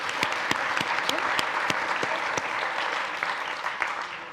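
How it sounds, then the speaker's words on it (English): A live audience at a Nordic sommelier championship applauds a competing candidate, with broad sustained clapping and sharp individual claps popping out near the front, slowly tapering toward the end. "But a round of applause for the lady."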